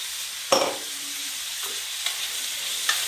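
Chopped onion, ginger and garlic fry in a pan for a chicken curry, a steady close sizzle with a few sharp utensil knocks against the pan, no speech.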